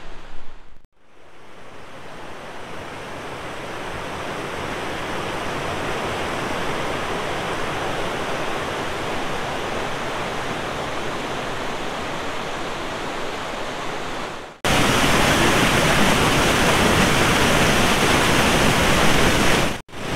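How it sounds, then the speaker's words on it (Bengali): Continuous roar of Dudhdhara waterfall on the Narmada River at Amarkantak, a dense rushing hiss that grows even louder and closer partway through. "এই হচ্ছে নর্মদা নদীর দ্বিতীয় জলপ্রপাত দুধধারা।"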